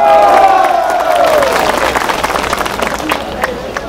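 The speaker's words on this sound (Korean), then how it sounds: "여러분 약속의 박수 한번 보냅시다" A crowd at a North Korean human rights rally in Seoul breaks into loud, sustained applause and cheering, dense clapping that swells over a lingering voice and then thins slightly.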